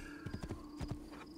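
Horse hooves in Assassin's Creed 2 give quick, faint clip-clop beats in two short bursts, with a brief whinny-like tone running under them.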